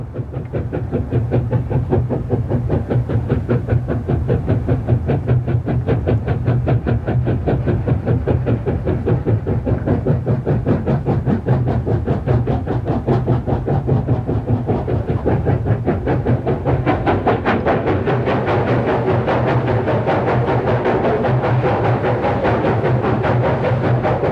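A train rolls on rails through a series of mountain tunnels in the Tian Shan, with a steady, loud rhythmic clickety-clack and an enclosed rumble that swells in the later part.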